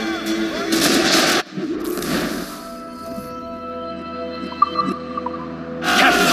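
Ship cannons fire during a naval battle in the video game Assassin's Creed Rogue: loud booming blasts at the start and end, with rumbling, sea ambience and background music between them.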